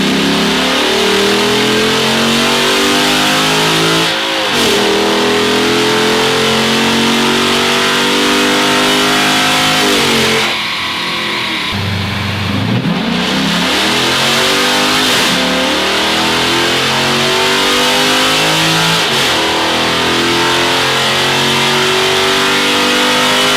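A cammed 6.1 Hemi V8 revving hard on a dyno, loud and close, with repeated long pulls that climb and drop back, a choppy lumpy idle in a short lull midway before wringing out again.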